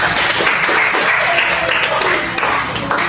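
A group, apparently a class, claps for Sarah, a short, fairly loud round of applause filling the room, with faint voices underneath.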